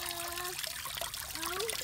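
Water trickles and pours steadily into an outdoor guppy pond during a water change on a hot day, a continuous close splashing stream with bubbling, heard alone.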